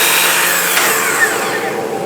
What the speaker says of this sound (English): I raised the saw before the cut was finished, and you probably heard the click